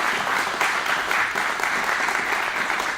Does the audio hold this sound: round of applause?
yes